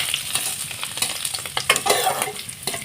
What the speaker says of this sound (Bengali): এইভাবে আমি ভেজে নিচ্ছি